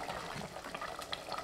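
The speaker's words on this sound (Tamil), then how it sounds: "இப்போ எக்ஸ்ட்ரா இருக்கிற தண்ணி வடிச்சிட்டுங்க" Extra water from boiled vegetables such as brinjal, yellow pumpkin and tomato drains out of a cooking pot in a short liquid splash and gurgle, faint and close, with no talking.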